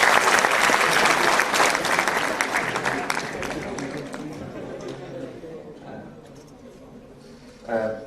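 Warm round of applause from an audience at an inauguration programme welcoming a speaker, loud at first then gradually thinning and fading out, followed by a brief voice near the end.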